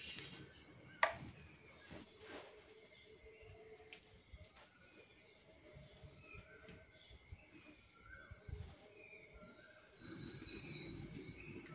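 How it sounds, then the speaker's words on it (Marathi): Birds chirp and call in short high bursts around an early-morning home courtyard, including a koel, with insects buzzing steadily beneath and a few soft rustles nearby. "पक्ष्यांचा आवाज येतो, कोकिळाचा आवाज येतो"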